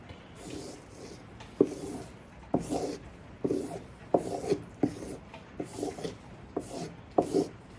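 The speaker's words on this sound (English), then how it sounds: "Now I'm going to give them a little stropping to take the burr off and refine the edge." Handmade kitchen knife stropped along its edge to remove the burr, a rhythmic series of soft rubbing strokes, each starting with a light tap, repeated back and forth at close range.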